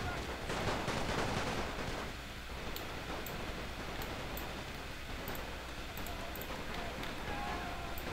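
Musket volleys and rifle fire crackle across a Napoleon: Total War battle with the Great War mod. They come as rapid distant bursts over a constant rumbling battlefield din, with scattered sharper pops.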